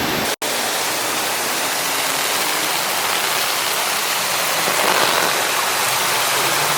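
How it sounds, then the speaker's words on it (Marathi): Fast-flowing floodwater rushes past village houses in Maharashtra in a loud, steady roar that fills the whole scene without pause. "पाण्याचा स्पीड बघा आहे मित्रांनो"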